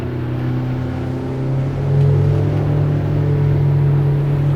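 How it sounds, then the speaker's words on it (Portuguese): A Ventura V195 motorboat's outboard engine runs steadily at speed, a loud continuous drone with low harmonic hum that swells slightly midway as the propeller ventilates through turns, with no voices. "a gente notou um pouquinho o hélice ventilando"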